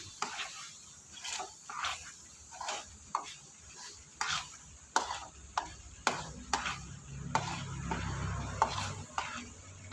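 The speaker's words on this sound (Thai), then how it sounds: "เราจะเจียวกระเทียม" Garlic fries in a pan for a Thai pork-crackling chili dip and is stirred steadily. A constant soft sizzle runs under repeated sharp taps and scrapes of the utensil against the pan.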